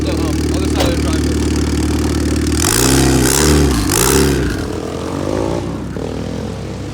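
A car with a blown clutch roars through its gears, the engine note climbing and swelling louder with each shift, then easing off. It is heard close and loud, with voices talking over it.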